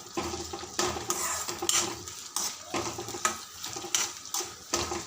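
Onions, green chillies and curry leaves stirred in hot oil in a pan, with a steady scraping of the spoon and soft sizzling, close and moderately loud, no talk.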